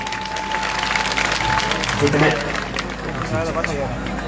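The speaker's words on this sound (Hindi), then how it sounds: "एक बार तालियां बजाएगा" Crowd applause at a BJP candidate's nomination rally in Chauhtan, a steady wash of clapping and crowd noise that holds through the whole stretch, loudest around the middle, with a public-address voice and murmuring underneath.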